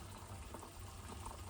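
Honey water carrying bits of beeswax pours through a small filter sieve during wax rendering, a steady trickling, bubbling flow with no pauses and no voices.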